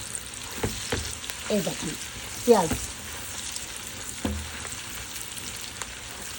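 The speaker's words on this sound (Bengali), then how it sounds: "পেঁয়াজ আর আলু আমি একসঙ্গে ভেজে ফেলছি।" Onions and potatoes frying together in a pan give a close, steady sizzle and crackle, broken by a few brief scrapes and clatters, while a voice speaks briefly over it.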